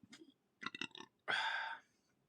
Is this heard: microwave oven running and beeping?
no